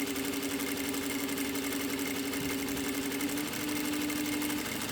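A sewing machine runs steadily as it stitches all the way around a channel for elastic on a fabric cover, giving a continuous mechanical whir with no talking.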